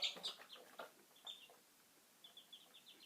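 A chick peeps in short high chirps, a few bright calls at the start and then a quicker run of faint peeps, close by with little else around.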